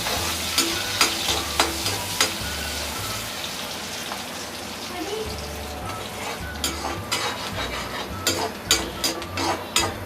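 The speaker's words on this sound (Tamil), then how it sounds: "வெங்காயம் நல்லா வதங்கட்டும்." A small chopped onion sautés in hot oil in a kadai for vadai kulambu, a steady close sizzle broken by scraping stirs and spattering crackles, with no one talking.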